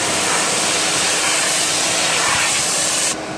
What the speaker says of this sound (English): the vacuum cleaner is doing its job right there in the corner, and it's just sucking all this water up.